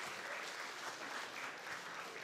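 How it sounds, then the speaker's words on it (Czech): An audience at a live film festival event applauds the students of the Ledeč nad Sázavou primary art school, producing steady, dense clapping that carries at an even level the whole time. "velký aplaus celému kolektivu žáků základní umělecké školy Ledeč nad Sázavou"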